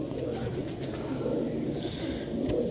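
Pigeons kept for sale in Pakistan coo softly and continuously over a low steady background hum.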